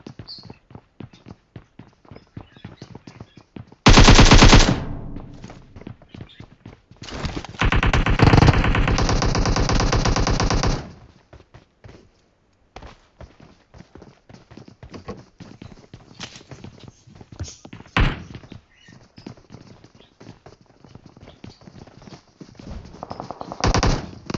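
PUBG Mobile gunfire on the Erangel map, dense rapid clicks and shots throughout, with two louder sustained automatic bursts and later scattered shots and footstep-like ticks.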